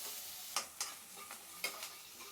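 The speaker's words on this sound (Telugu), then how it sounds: "కొంచెం హై ఫ్లేమ్లో పెట్టుకొని దోరగా వేయించుకోవాలి" Cashews frying in a pan over high flame, with a soft steady sizzle and a few light stirring scrapes against the pan.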